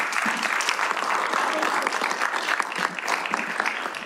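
Audience applause fills a legislative session at a government center, a steady dense wash of many hands clapping for a young champion, loud and continuous throughout.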